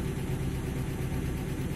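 A car engine idles while warming up before driving, a steady low rumble held evenly for about two seconds, close and continuous with no voices.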